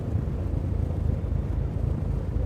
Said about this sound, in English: I'm going to unselect my engine 3 so that I can give it a little bit of throttle